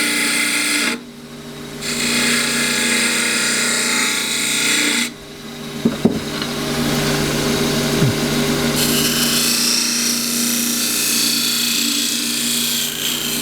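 Wood lathe turning a small natural edge bowl with a 3/8 spindle gouge: a loud, steady motor hum under a continuous rough scraping and cutting hiss, with brief dips and shifts as the tool is lifted and reapplied.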